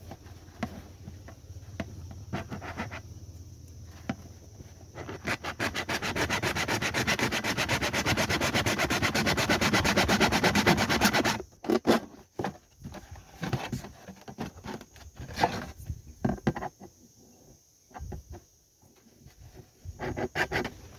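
A saw blade cuts through a plastic bottle for a homemade mango picker, with a fast rasping stroke that grows dense and loud for several seconds, then breaks into short scattered scrapes and pauses.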